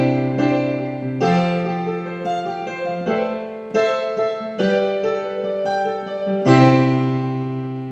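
Piano chords built on 2s instead of plain major chords, rolled with a light rhythmic pattern: warm repeated strikes that shift between chord shapes over a sustained low bass, played alone without talk.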